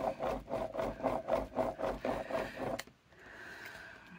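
A hand rubs firmly back and forth over paper laid on a print, making about ten regular, close scraping strokes that then stop, leaving quiet room tone.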